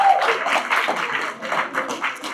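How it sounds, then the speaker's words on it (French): Brief burst of scattered applause from a conference audience, light uneven clapping with a few voices mixed in, fairly close and moderate in level. "On les applaudit."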